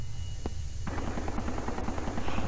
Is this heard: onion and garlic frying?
no